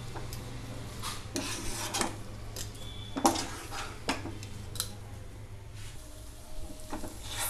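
Wheat and semolina dough with ghee is stirred in a pan, producing close, repeated scraping and rubbing strokes against the metal at an uneven pace over a low steady hum.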